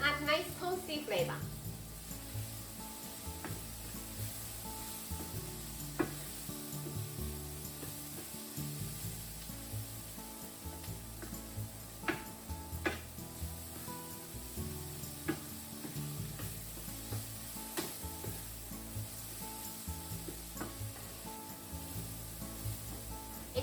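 Corn kernels sizzle and fry in butter in a pan as they brown, a steady crackle that holds for the whole stretch, with occasional stirring scrapes and some low background sound or talk underneath.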